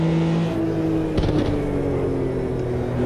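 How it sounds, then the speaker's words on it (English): Race car engine in the Automobilista 2 sim racing game at the Nurburgring, held at a steady drone with a brief sharp rev blip near the middle as a downshift is made. "give it a good old poke of the accelerator on the downshifts"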